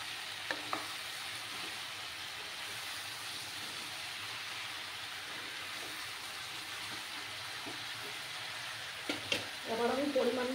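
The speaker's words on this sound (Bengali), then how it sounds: "দিয়ে ভালো করে সবজিটাকে কষিয়ে নিতে হবে।" Mixed vegetables with spice powder stir-fried in a pan, a continuous even sizzle with occasional spoon clinks, brief knocks near the start and a busier stirring burst at the end.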